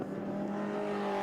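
Several MG and other British sports cars race past on a circuit during a club race meeting, a steady engine drone with strong low harmonics holding throughout, loud and continuous.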